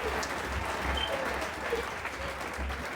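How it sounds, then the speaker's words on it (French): A church congregation claps and cheers for God, a steady, full round of applause with a rhythmic low pulse running beneath it. "Si tu dis que ton Dieu est bon, je voudrais que tu l'acclames très fort."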